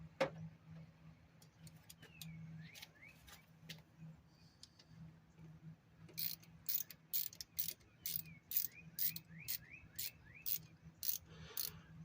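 Ratchet on a 3/8 drive with a long extension backing a bolt out of an Evinrude Ficht outboard, a run of quick crisp clicks in bursts that grows busier toward the end, close and quiet over a low hum.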